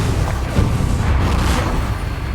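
Confringo fire-blast spell cast in the Hogwarts Legacy video game, a dense, continuous low booming rumble with bursting crackle, loud and close throughout with no pause.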